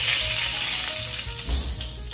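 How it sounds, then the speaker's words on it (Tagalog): Salt sizzles in hot cooking oil in a pan, a close, steady hiss and crackle filling the short moment with no talking. "To check kung maidit na yung mantika, pwede tayo maglagay ng konting asin."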